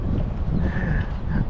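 Strong wind buffets the microphone at a creek fishing spot in Dubai, a continuous low rumbling roar with gusty swells and no speech.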